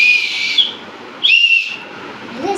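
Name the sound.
whistle blown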